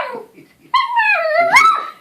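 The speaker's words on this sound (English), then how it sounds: "High-pitched barking." A dog gives a short high-pitched whine, then after a brief pause a longer rising yelp and bark. Both are close and loud.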